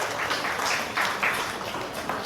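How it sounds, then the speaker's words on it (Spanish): Applause from an audience at an opening session of an intercultural bilingual education event in Puerto Bermúdez, a steady dense wash of clapping lasting the whole stretch with slight swells, no voices over it. "Fuertes aplausos."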